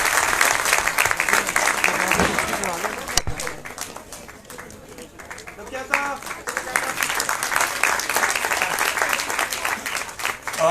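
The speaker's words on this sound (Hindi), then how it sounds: "जोरदार तालियां बजाते रहे, तालियां बजाने से ठंड भी नहीं लगेगी" Crowd applause at the Aadi Vigyan Mahotsav science festival in Uttarakhand 2024, sustained loud clapping that dips briefly midway and swells again, with a voice speaking over parts of it.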